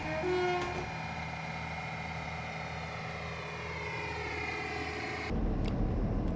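A diesel multiple unit train in Train Simulator Classic runs on a foggy UK route, a steady engine drone with tonal hum and brief horn-like tones at the start, then a louder rumbling change near the end.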